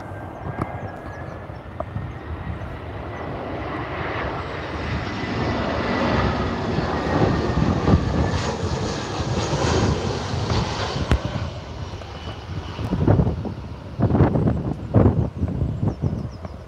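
An easyJet airliner arriving from Faro at Liverpool Airport, heard as a steady, moderately distant jet roar blended with wind buffeting on the microphone, followed by a few sharp thumps near the end.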